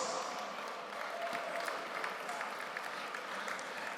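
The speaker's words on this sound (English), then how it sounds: "please give yourselves a round of applause" Steady applause from the audience at a gala event, a fairly distant, even wash of many hands clapping that stays level throughout with no voices over it.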